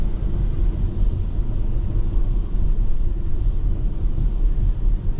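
Two trucks roar past a 2022 Toyota Sienna on a highway, a loud, steady low rumble of road and engine noise heard from inside the car, with no voices.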